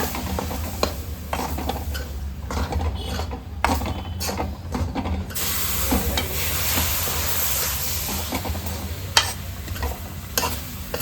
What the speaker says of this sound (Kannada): ನೋಡಿ ಈ ಹದದಲ್ಲಿ ಹಾಲಿನ ಪೌಡ್ರು ಫ್ರೈ ಆಗಬೇಕು ಸ್ವಲ್ಪ ಸ್ವಲ್ಪನೇ ಹಾಲು ಹಾಕ್ಕೊಂಡು ಮಿಕ್ಸ್ ಮಾಡ್ಕೊಳ್ಳೋಣ